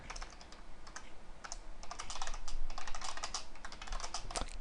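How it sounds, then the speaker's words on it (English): Steady, fast typing on a computer keyboard during HTML coding, a continuous close patter of key clicks with a few brief pauses and louder strokes, no talking over it. "Can't talk and type at the same time apparently."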